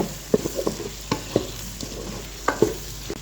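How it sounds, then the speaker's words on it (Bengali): Turmeric and chili powder stirred into softened tomatoes for a cabbage ghonto, with spatula scrapes and taps against the pan in irregular bursts over a soft sizzle, close by. "এখন এখানে দিয়ে দিচ্ছি হলুদ গুঁড়ো মরিচ গুঁড়ো সব কিছুকে ভালোভাবে মিশিয়ে নেব"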